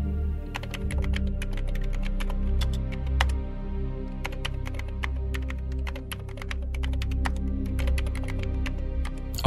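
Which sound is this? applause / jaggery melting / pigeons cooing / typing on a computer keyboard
typing on a computer keyboard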